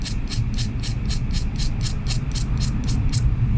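A pencil lead is scraped to a chisel point, making a rapid, regular series of short scratchy strokes, about four per second, close and fairly loud over a low rumble, with no talking.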